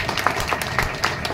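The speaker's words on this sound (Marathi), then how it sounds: "म्हणून आपल्या सर्वांसाठी जोरदार टाळ्या." Audience applause at a lecture on Tilak and the Ganesh festival held in a Girgaon chawl: a dense, steady wash of many hands clapping at moderate volume, with scattered sharper claps and no voices over it.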